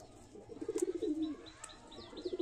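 Pigeons being readied for a pigeon tournament coo in soft, low rolling bursts, with brief chirps and a faint flutter of wings nearby; quiet, with no talking.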